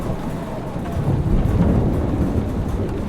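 Thunderstorm in the video game Life is Strange Remastered, a deep rolling rumble of thunder swelling over steady rain and wind noise, with no talk.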